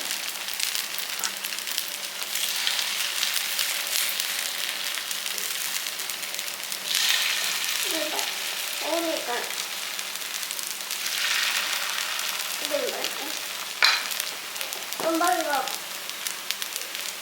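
Food cooking in a covered pan over a low flame, a steady soft sizzle throughout with faint clinks and a voice talking over it now and then.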